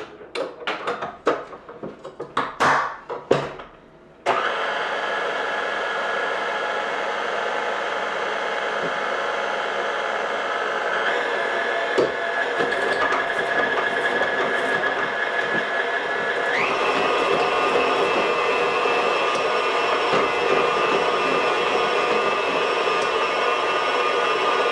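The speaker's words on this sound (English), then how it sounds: "Put it back on the mixer just to blend." A stand mixer blends banana cake batter with a steady, loud motor whir that shifts up in pitch partway through, after a few clattering knocks at the start.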